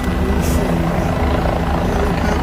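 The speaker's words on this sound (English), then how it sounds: "Helicopters here." A helicopter hovers over a Miami street near a railroad crossing, its loud continuous rotor thrum and engine drone filling the air with no break.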